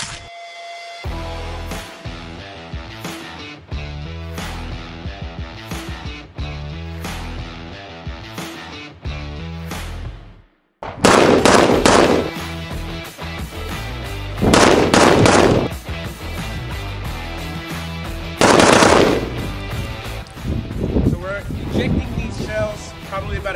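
Rifle shots from a Zastava ZPAP M70 with a muzzle brake at an outdoor range, loud sharp reports in irregular bursts, with shooting sounds throughout and several very loud, dense clusters in the second half.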